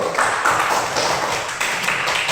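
A class of pupils claps their hands together in a steady, dense patter of many hands, fairly loud and close, with no pauses through the whole stretch.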